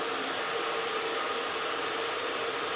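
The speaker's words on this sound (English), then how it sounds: "Softly blow drying, take the time." A hair dryer softly blow-drying hair during a salon perm and cut, a steady close whooshing roar throughout, no speech.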